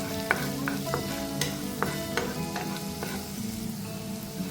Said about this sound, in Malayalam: പച്ചമുളക്, ഇതെല്ലാം കൂടെ ഇട്ട് ഒന്ന് മൂപ്പിച്ചെടുക്കുക.